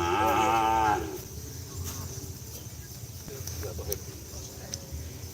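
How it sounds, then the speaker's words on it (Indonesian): Cow at an Indonesian livestock field, one loud, close, drawn-out moo opening the scene, followed by outdoor background murmur and faint voices. "Ini sapinya guys"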